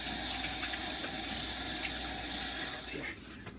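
Running water from a sink tap pours in a steady, close hiss as hands are washed, fading and ending in a few small splashes.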